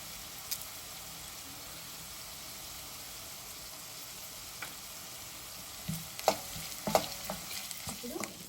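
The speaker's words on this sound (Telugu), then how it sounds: "ఆనియన్స్, గ్రీన్ చిల్లీస్, కరివేపాకు వేసి ఫ్రై చేసుకుంటామండి" Onions, green chillies and curry leaves frying in oil in a pan, a soft steady sizzle with occasional sharper crackles and stirring scrapes toward the end, no talking.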